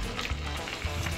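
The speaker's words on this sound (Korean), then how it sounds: "찌개 부글부글 끓는 소리 듣고." Soft tofu stew bubbling and sizzling, heard as playback from a video, a brief, low, steady crackling simmer without any voices.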